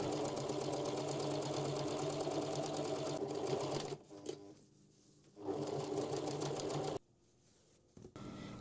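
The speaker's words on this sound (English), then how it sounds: "Now we're top stitching the handle between these marker pins." A sewing machine top-stitches a tote bag handle between marker pins, running in steady loud bursts of rapid stitching with short pauses between runs.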